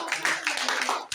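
A church congregation claps in a brief, fairly close burst of several quick claps with an uneven rhythm, under faint background sound.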